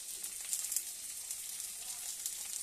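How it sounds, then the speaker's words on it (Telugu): Onions sizzling and frying in a pan with salt added for an aloo tomato curry, a steady faint crackling hiss with small pops, no voices. "ఉల్లిపాయ ఇవి కొంచెం ఇలా వేగినాయి కదా, ఇవి కొంచెం బాగా వేగాలండి"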